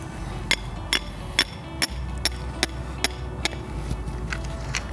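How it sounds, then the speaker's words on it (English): A hammer drives a wooden stake into the ground while laying out a square corner. About a dozen sharp, evenly spaced strikes ring out close by over a low outdoor rumble. "Get your hammer."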